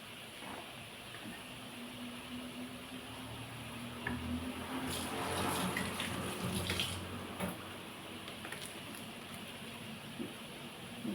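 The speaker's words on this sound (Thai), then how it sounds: "น้ำเดือดแล้ว" Steady bubbling and rushing water noise runs throughout, swelling louder midway, like a pot at a rolling boil for blanching pork, with no talk.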